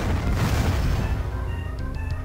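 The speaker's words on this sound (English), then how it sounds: "however, smart missiles away." Smart missiles detonate in the Descent 2 video game, producing a dense, rumbling explosive burst that fades into a lingering low roar, with a few faint electronic blips near the end.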